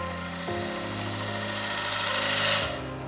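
A wood turning tool cuts across a spinning platter on a lathe, a steady hum from the motor with a soft rising scrape of the gouge against the wood that swells and then eases off.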